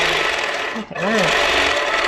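Handi Quilter moveable longarm quilting machine stitching in a showroom, a steady dense mechanical whir that briefly dips and then resumes, heard close with a voice talking over it.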